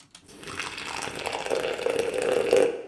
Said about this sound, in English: The next track I decided to use was the pouring water into the cafetière.